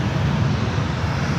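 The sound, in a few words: jet airliner engine noise at San Francisco airport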